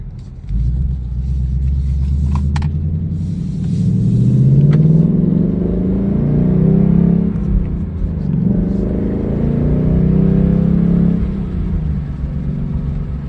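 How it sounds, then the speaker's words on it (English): A 2023 Ford Mustang GT Premium's deep, throaty V8 rumble idles close by, warmed up, swelling in pitch with a few revs, loud and steady throughout. "You hear that rumble"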